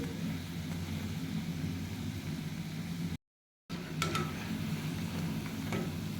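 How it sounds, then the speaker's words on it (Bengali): Cabbage pakoras fry in hot oil with a steady, close, hissing sizzle and a low background hum, broken by a brief silent gap before the frying continues, joined by a few light scrapes. "এরপরে ভেজে নেওয়ার পালা গাইস ভালো করে পাকোড়াগুলো নিয়ে চেড়ে নিচ্ছি"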